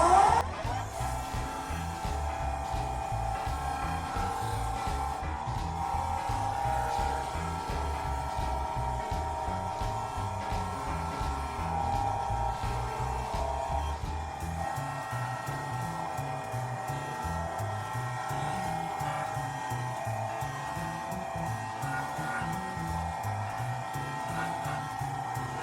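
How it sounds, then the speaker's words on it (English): A wood lathe spins at 2000 RPM while a maple bowl is buffed to a sheen, giving a steady, continuous mechanical whir with a constant hum and no talking. "And now to buff it, I've got it set at 2000 RPM."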